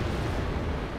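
Two 500-pound bombs dropped from an aircraft onto infantry in Wargame: Airland Battle, heard as one continuous heavy, rumbling blast roar filling a short moment at steady loudness.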